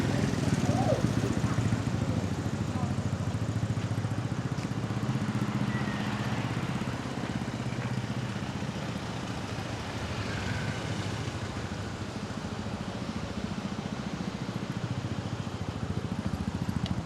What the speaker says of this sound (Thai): รถไถ